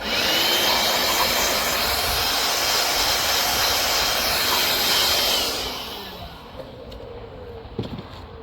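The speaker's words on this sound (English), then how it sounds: "getting a vacuum and sucking out all the dust from inside the hole" A vacuum cleaner sucks dust out of a hole prepared for a mini earthship roof, a loud steady whine for about six seconds before cutting to a lower hum with a few faint knocks.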